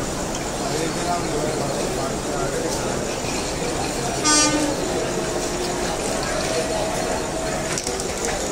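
The Kolhapur–Mumbai Mahalaxmi Express rolls into a platform at Kalyan Junction with a steady rumble of wheels, a short horn blast midway, and a station announcement voice running underneath.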